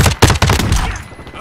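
MP5 submachine gun in Modern Warfare 2, a short, loud, close burst of rapid shots that trails off within about a second.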